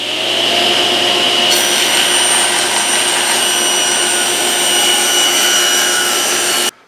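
Power saw cutting a thin sliver off the top edge of veneered pieces guided by a miter fence, a loud, steady, close whine that holds for several seconds and then cuts off abruptly.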